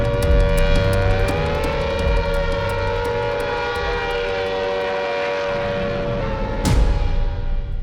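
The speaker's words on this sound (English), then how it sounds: "A warning siren." A World War II air raid warning siren wails loudly and steadily, a sustained rising-and-holding tone under low rumbling, with a sudden sharp crash near the end.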